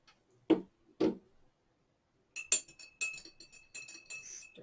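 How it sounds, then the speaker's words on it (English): A spoon stirs tea in a glass, starting with two dull taps and then a run of bright, ringing clinks close up, with no talking. "Stir that up a little bit."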